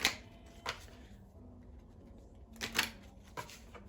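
Tarot cards being shuffled by hand, a few short riffling and tapping bursts, close and fairly quiet, with pauses between them.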